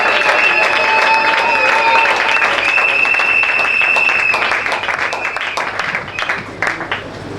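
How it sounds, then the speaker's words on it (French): A church congregation at a spiritual pastor-consecration event claps and cheers loudly, dense sustained applause with shouting voices and whistles that slowly thins toward the end. "Est-ce que nous pouvons acclamer très fort pour la gloire de notre Dieu?"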